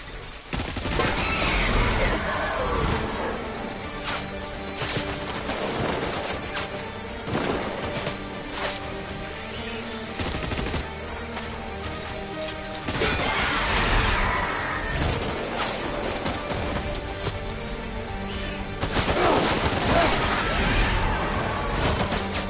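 Gunfire and explosive crashes in the video game Death Stranding, with dense bursts of fusillade, whooshes and booms roaring continuously at high loudness, surging in waves.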